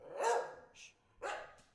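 A small dog barks twice, close and sharp, with a short gap between the yaps, during a casual podcast recording while someone quietly hushes it.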